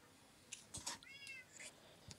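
A cat meows close by, a few short, faint calls spread over a couple of seconds, with a light rustle in the background.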